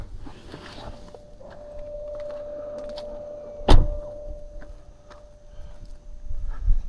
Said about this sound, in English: We're gonna lock the car.